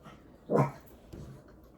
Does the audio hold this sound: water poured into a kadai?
no